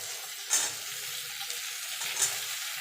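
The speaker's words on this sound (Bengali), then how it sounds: "দেখুন বন্ধু উচ্ছেটা ভাজা ভাজা হয়ে গেছে," Pumpkin and bitter gourd fry together in hot oil, making a steady close sizzle with a couple of brief louder spatters, and no one talks.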